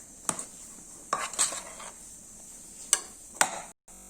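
White pepper and finely chopped rosemary are mixed in a pan for lamb shank, with sparse metallic clinks and taps of a utensil against the pan over a quiet background.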